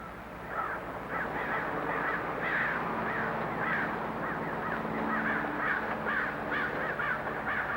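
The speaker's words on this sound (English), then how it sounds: "Crows. We have a lot of them out here." Many crows cawing repeatedly, overlapping harsh calls in an ongoing chorus, fairly close and steady throughout.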